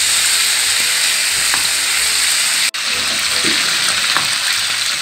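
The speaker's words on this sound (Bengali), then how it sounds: "নাড়াচাড়া করে সুন্দর করে ভেজে নিবেন মাংসটা" Chicken meat sizzles in a hot pan while being stirred, a loud, steady hiss with scraping stir strokes, broken by one momentary dropout near the middle.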